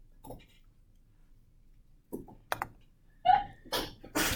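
A single sharp sneeze bursts out near the end after a few quiet clicks and small noises in an otherwise hushed classroom.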